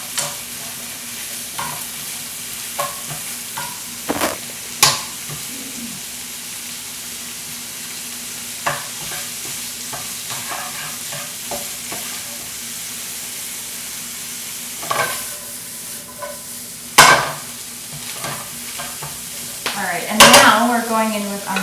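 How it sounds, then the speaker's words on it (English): Vegetables stir-frying in a pan for pad see ew: a steady sizzle of hot oil broken by repeated scrapes and clanks of a utensil tossing the food, close and with no talk. "Then we're going in with our vegetables. Great thing with stir fries, everything happens pretty quickly."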